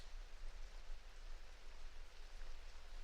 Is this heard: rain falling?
yes